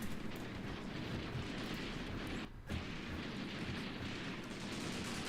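Gunfire in the wargame Graviteam Tactics during a South African campaign battle, a dense, continuous crackling barrage of shots and distant blasts with a brief dip in the middle, moderately faint.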